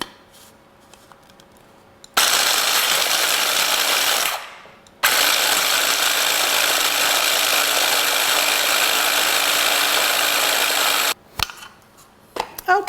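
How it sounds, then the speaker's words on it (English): Walnuts being ground in a small food processor, a loud continuous buzzing motor run in two long bursts with a short pause between, then a few brief pulses at the end. "we're going to grind some walnuts in this small food processor that I have"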